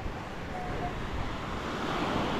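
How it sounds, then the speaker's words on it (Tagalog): Sea waves and wind on the beach at Bucana: a steady, full rush of surf and blowing air, continuous and fairly distant, with no voices. "Dito lang muna tayo sa tabing dagat."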